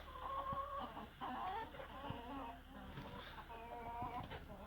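Young roosters and hens cluck and call in a winter poultry yard, a busy layered chorus of close clucks and short crowing-like calls continuing throughout over a low steady background hum.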